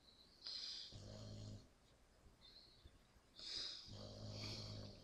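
Soft, rhythmic dog snoring, two slow cycles of wheezy inhale and low rumbling exhale, close and quiet with no talk.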